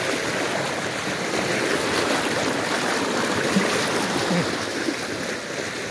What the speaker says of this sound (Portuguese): A água vem do rego aqui.